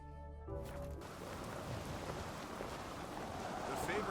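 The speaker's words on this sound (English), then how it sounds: "Hey, it's raining again." Steady rain falls in the Skellige Isles of the video game The Witcher 3, a dense continuous hiss that starts after a brief musical tone and holds evenly, fairly soft, with no talking.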